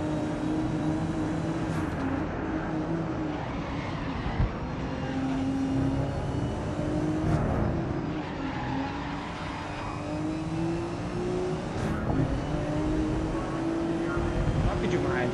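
Nissan Skyline GT-R R32 racing a lap of the Red Bull Ring in Grid Legends, a steady engine drone rising and falling through gear changes, with a voice talking over it throughout.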